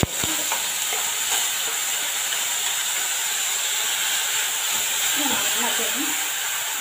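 Small bananas fry in hot ghee for banana payasam with a steady, dense sizzle. Soft scrapes of stirring come and go, and a voice talks faintly underneath.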